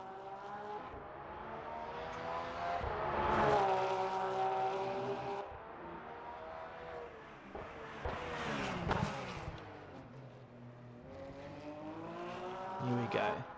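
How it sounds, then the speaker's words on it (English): Porsche race car engine roaring steadily on a track, its pitch climbing and dropping through gear changes and passes, heard continuously beneath a commentator's voice throughout. "Doesn't that Porsche just sound beautiful?"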